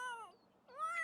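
A cat meowing in the video game The Sims 3, two clear rising-and-falling meows separated by a short pause, close and fairly soft.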